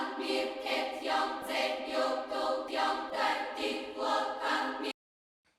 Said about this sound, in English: So then we're going to take a look at the Bulgarian choir.